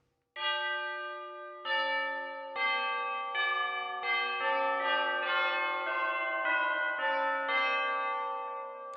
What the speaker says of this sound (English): Can never have enough tubular bells.